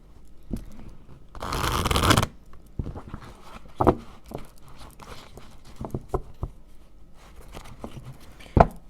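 Tarot cards are shuffled by hand in one brisk riffle lasting under a second, surrounded by soft handling taps and rustles.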